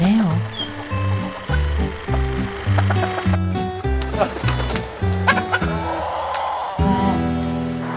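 A chicken clucks in short repeated bursts close by, mixed with outdoor noise and a few other sounds.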